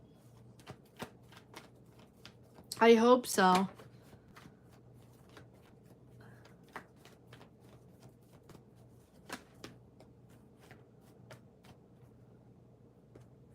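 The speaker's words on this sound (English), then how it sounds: "Give me one moment to shuffle." Tarot cards being shuffled in a brief, crisp riffling burst near the start, followed by scattered soft taps and card handling over a quiet background hum, with a short spoken phrase.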